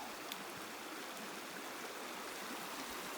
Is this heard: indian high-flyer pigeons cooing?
no